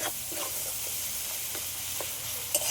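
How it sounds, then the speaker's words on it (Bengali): Chopped tomato with turmeric powder sizzles steadily in a hot pan, a continuous close frying hiss broken by soft scrapes of a spoon stirring every half second or so. "টমেটোটা একটু ভেজে নেব"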